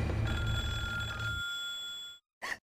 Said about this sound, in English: what she can hear for some reason is this phone that's sitting right here